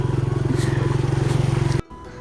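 A motorcycle rides along a muddy road, its engine throbbing in a steady, loud pulse close by before cutting off abruptly near the end.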